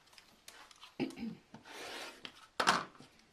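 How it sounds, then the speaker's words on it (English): Quilt block fabric is trimmed through its top layer in short, close cuts and scrapes, a few separate strokes with quiet gaps between them and no talking. "So now I'm trimming just the top layer."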